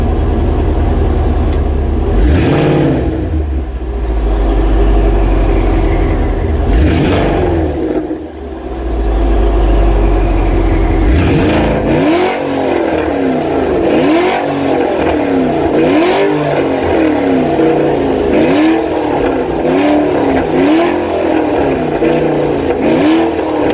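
A Porsche Panamera's turbocharged engine revs hard several times, roaring up and falling back, then settles into a throaty, burbling idle with a faint turbo whine.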